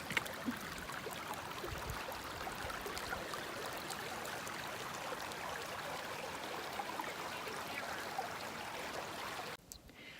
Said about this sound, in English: Down to the creek.